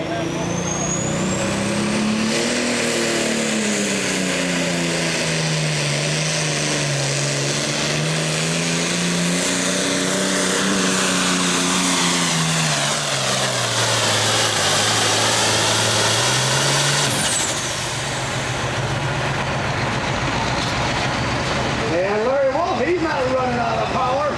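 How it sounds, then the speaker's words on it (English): A big John Deere diesel pulling tractor at a 2003 Summer Nationals tractor pull, its engine winding up slowly with turbo whine, loud and sustained, rising and falling in pitch over about seventeen seconds before dropping away, with a crowd and announcer underneath. "Starting to feed the diesel fuel to that big John Deere motor. Building up the turbocharger boost."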